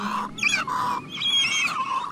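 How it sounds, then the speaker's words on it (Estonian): Birds calling in Vilsandi National Park, an island sea area off Estonia, with chirping whistled notes rising and falling over about two seconds, fairly close and continuous, with no voices. "Lindudele on Vilsandi peatus, toitumis- ja pesitsuskoht."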